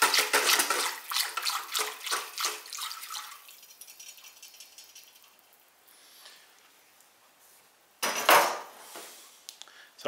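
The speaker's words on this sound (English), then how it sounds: "So give this a good stir" Red iron oxide pottery slip is stirred by hand in a tank, starting with close, rhythmic sloshing and splashing, then fading to quiet before a sudden loud splash and dripping at the end.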